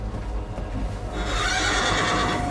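A horse gives a loud, close neigh that rises into a sustained shrill whinny lasting over a second, with no one speaking.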